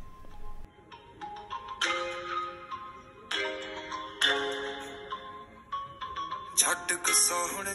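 Music plays from a OnePlus 6 smartphone's small, thin-sounding speaker with a steady beat and bright, bursting sections, with no talking.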